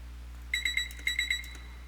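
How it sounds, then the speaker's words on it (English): A microwave oven sounds two quick bursts of three sharp, high electronic beeps, close and clear over a steady low hum. "I grabbed this beep at the end of the recording"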